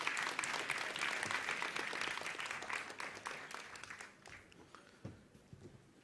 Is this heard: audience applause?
yes